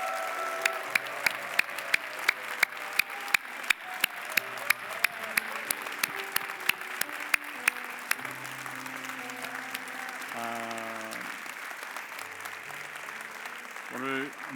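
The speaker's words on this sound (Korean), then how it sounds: "우리 24차 등록하신 분들 일어나실 때 큰 환호성과 박수로" A church congregation at a Thanksgiving Sunday service cheers and applauds as newly registered members stand, with rhythmic clapping and crowd noise over sustained music, continuing loudly throughout.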